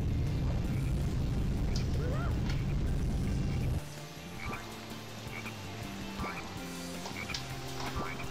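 Sonic Heroes game audio with repeated frog croaks. A dense, rumbling burst of noise for the first few seconds gives way to game music with croaks recurring at intervals, loud and close.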